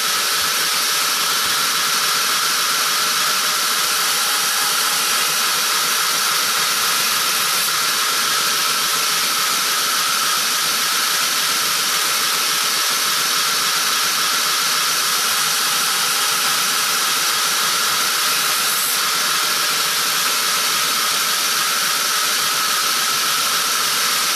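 Steady, loud abrasive hiss of a belt grinder working the cutting edge of a knife blade during finish grinding, continuous and unbroken for the whole stretch with no talking.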